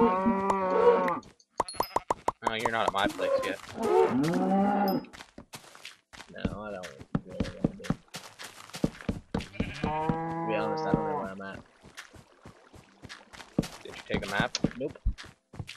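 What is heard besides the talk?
cows mooing in the video game Minecraft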